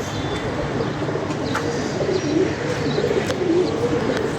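Pigeons coo in soft, low rolling calls, partly buried in a constant broad background hiss.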